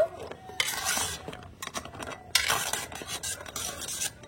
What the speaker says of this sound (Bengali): তো এবার আমি এই গরম গরম চিনি শিরার মধ্যে ছেড়ে দেবো মিষ্টিগুলো। এবার একটু ভালো করে মিশিয়ে নেব।